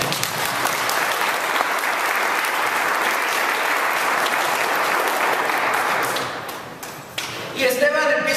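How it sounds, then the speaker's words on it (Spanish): A church congregation claps in a loud, dense round of applause that holds steady for several seconds, then thins out and fades near the end. "Un fuerte aplauso por esa gente."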